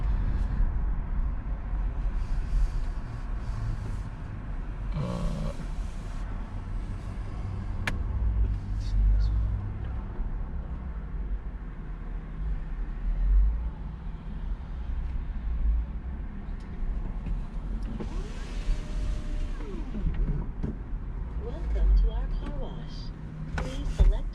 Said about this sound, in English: So here we go, our first car wash experience.